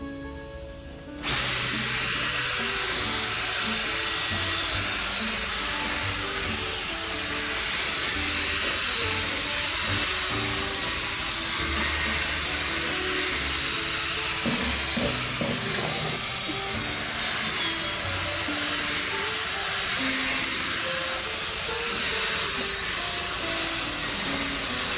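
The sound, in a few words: scrubbing car seat with Desiderio Plus steam cleaner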